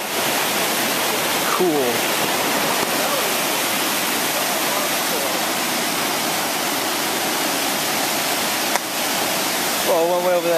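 Steady, loud rush of a river pouring beneath a bridge in Oregon, a dense broadband roar that never lets up, with brief voices breaking in near the start and again at the end.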